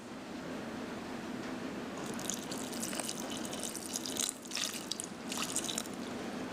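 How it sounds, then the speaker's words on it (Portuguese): Water poured onto soil around a capacitive moisture sensor: a quiet steady background, then splashy pouring bursts in the last few seconds, broken by brief pauses, with no speech. "Agora nós vamos pegar, vamos inserir a água."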